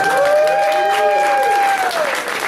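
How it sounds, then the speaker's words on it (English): A cabaret revue crowd breaks into a broad round of applause, loud and sustained, while a voice carries over the clapping. "Big round of applause."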